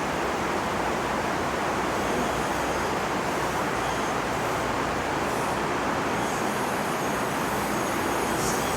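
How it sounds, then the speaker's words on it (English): Heavy rain pours down in Antigua as a dense, continuous broadband hiss, steady and enveloping, with no voices over it. "it's pouring rain in Antigua"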